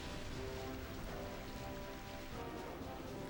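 Steady rain hisses in the Pokemon Colosseum video game as the Rain move takes effect. The dense, even downpour continues without a break at a moderate level.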